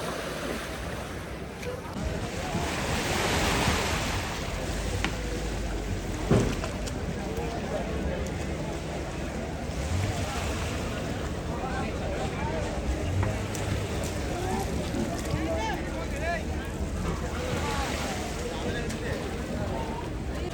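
Surf rolls steadily onto Kollam Vadi beach during a fish auction, a continuous wash of waves and wind with boats and people talking in the background.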